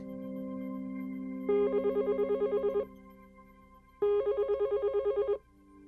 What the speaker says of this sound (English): At Studio 6, the emergency line rings for the first and only time.